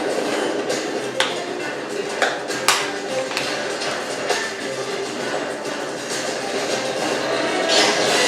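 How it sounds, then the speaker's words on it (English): Slow-moving freight trains in a film chase scene: a continuous rolling rumble with scattered metallic taps and clanks, a few sharper knocks standing out, moderately loud and steady throughout. "It's slow-moving freight trains."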